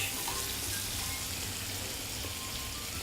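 Vegetables including celery sizzle steadily in a hot pan while being stirred for a coq au vin, a continuous dense frying hiss with no talk over it.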